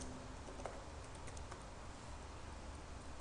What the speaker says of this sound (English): say instead of glacier, we type in forest science over here